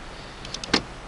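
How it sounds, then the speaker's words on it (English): Driver's side power window motor with a stripped gear in a 1989 Oldsmobile Cutlass Supreme, giving a few short whirring bursts that end in a louder grinding clunk, close by in a quiet car. "my driver's side window needs to have a gear replaced."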